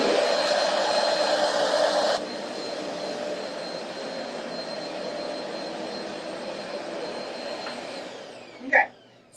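An R25 vacuum cleaner runs with a steady, loud whooshing motor drone through a single swipe, its pitch shifting slightly partway through, then fading out before a few closing clicks.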